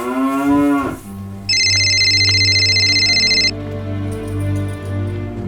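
A mobile phone rings with one steady, bright electronic tone lasting about two seconds, sounding close and loud over a low background hum, after a brief lowing sound at the start.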